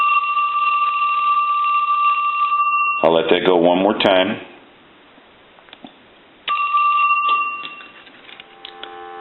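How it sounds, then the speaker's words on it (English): Bell rings from a Mickey Mouse rotary dial telephone, loud and continuous with a rapid metallic trill. It stops while someone speaks briefly, then rings again in a second burst that fades out. "So we'll go ahead and ring the bell."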